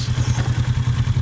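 Kawasaki Versys 650 motorcycle engine running close by, a rapid, even low-pitched pulsing thrum with a slightly clattery edge, steady throughout.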